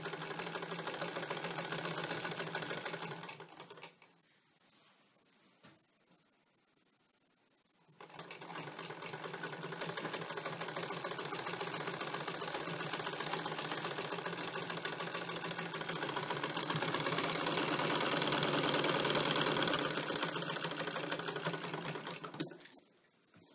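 Sewing machine stitching a katori blouse, a fast, steady mechanical whir that runs for a few seconds, pauses briefly, then resumes in a long continuous run before stopping near the end.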